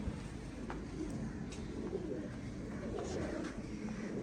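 Rooftop-crossed fancy pigeons keep up a low, continuous cooing, fairly faint beneath a steady background hum, with a few brief flutters and sharper clicks scattered through.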